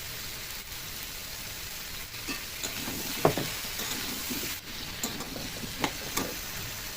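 Potato and bottle gourd sizzle steadily in a hot pan, a close, quiet hiss broken by a few soft clicks and scrapes as the pieces shift.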